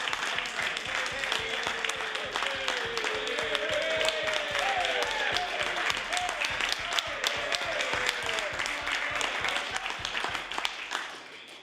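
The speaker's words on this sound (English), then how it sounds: "I'd like to thank the member from Glace Bay for joining in the applause." Sustained clapping fills a legislative House of Assembly chamber, a dense, even patter of many hands that continues throughout and fades slightly at the end, with a voice faintly audible beneath it.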